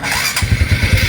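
A Honda XRM 125 Fi motorcycle engine starts by alarm remote, catching after a brief quiet moment and settling into a close, steady, thumping idle.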